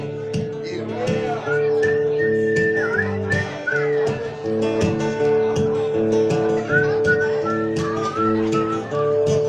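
Someone whistles a wavering tune over steady, droning background music, with bright pitched lines sliding up and down throughout.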